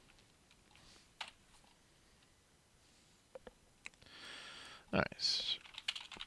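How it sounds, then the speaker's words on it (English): Code being typed on a computer keyboard during a programming lesson, with quiet scattered key clicks throughout and a louder burst of tapping near the end, alongside a brief spoken remark. "I'm going to just type this up right quick"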